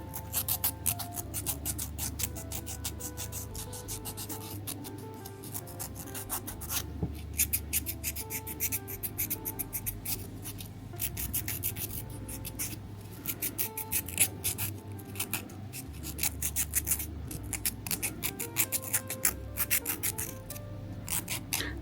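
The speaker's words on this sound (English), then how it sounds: "Filing the nails helps to have the glue stick to something, to a rough surface." Press-on nails being filed with a nail file to roughen the surface, a close, steady scratchy rasp of rapid back-and-forth strokes that continues without a break, with no talking.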